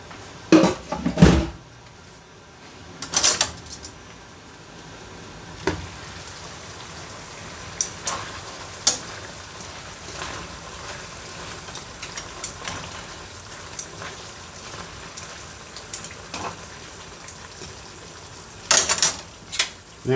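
Chicken cacciatore being stirred in a pot, with scattered clanks and scrapes of a utensil against metal over a low simmering bubble and sharp clatters near the start and end.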